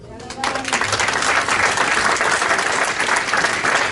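Church congregation applauding together in a service, a steady dense wash of clapping that swells quickly and holds loud throughout, with a voice audible at the very start.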